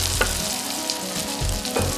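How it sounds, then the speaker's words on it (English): Halloumi cakes with courgette and carrot fry in a hot oiled pan, a loud, close, continuous crackling sizzle with small pops and a few low knocks of the pan. "I can start frying off my halloumi cakes in a hot oiled pan"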